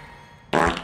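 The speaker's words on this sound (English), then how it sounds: "Thank you for the fart." A single loud, rasping fart bursts out suddenly after a stretch of near silence, lasting about a third of a second and close to the microphone.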